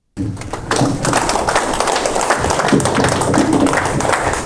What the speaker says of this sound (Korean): 강사님을 큰 박수로 환영해 주시면 고맙습니다